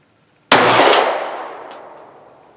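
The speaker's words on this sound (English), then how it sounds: "And we're firing some of the cheap ammo." A single sharp gunshot from a SCCY CPX-1 pistol firing cheap ammunition cracks loud and close, then rings out in a long fading echo.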